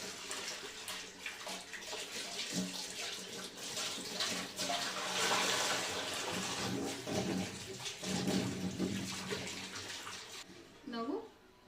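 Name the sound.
washing carrots under running water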